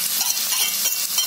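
Chillies fry in oil on a tawa with a close, steady, bright sizzle that holds evenly for a brief moment, without speech.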